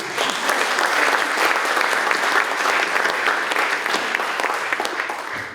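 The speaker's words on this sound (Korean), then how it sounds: "다시 한번 박수." A crowd at an education office launch ceremony applauds the superintendent again, dense, sustained clapping at full volume throughout.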